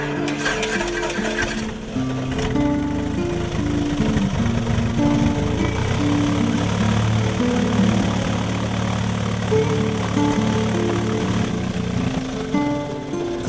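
Aircraft piston engine running after its spark plugs were cleaned of lead deposits, a loud steady throbbing drone with shifting harmonic tones, close and continuous for over ten seconds with no voices.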